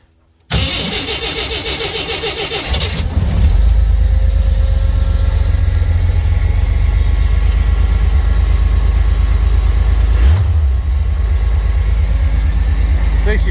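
The 258 engine in a Jeep CJ5 with Holley Sniper fuel injection and a Hyperspark kit cold-starts after a few seconds of cranking. It catches loudly and settles into a steady, rumbling idle, with one brief blip of revs near the end.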